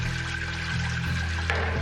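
Tap water runs steadily into a cooking pan with quinoa stuck to it at a kitchen sink while it is filled with soap and water. The flow is continuous and close, with a low hum underneath.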